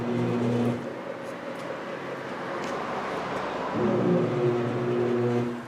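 A tire balancer spins a Honda CRV wheel with a steady mechanical whir and hum that holds its level for several seconds and swells slightly near the end. The sound is continuous and close, with no speech.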